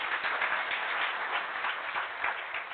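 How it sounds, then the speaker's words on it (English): Lecture audience giving a round of applause for a guest speaker, a steady wash of many hands clapping, moderately loud and sustained across the whole stretch without speech. "let's give it a round of applause"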